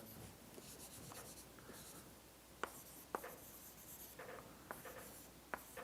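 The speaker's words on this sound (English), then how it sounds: "let me write this" Chalk or marker writes on a board during a mathematics lecture, a faint scratching run broken by several sharp taps and strokes, with no speech.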